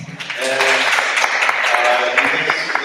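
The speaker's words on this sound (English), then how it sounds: "Another round of applause" An audience at an academic conference room session applauds after a presentation, a dense steady clapping that runs loud and close through the clip, with a voice speaking over it.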